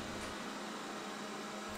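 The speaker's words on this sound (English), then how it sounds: "this is my Xiaomi robot vacuum" A Xiaomi MIJIA robot vacuum cleaner runs with a steady, even whir and broadband hiss, close by and constant throughout, with no voices.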